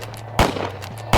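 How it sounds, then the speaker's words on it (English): Two loud gunshots crack in a staged audio drama scene, spaced under a second apart, sharp and close over a low steady hum. "Loud gunshots made me freeze."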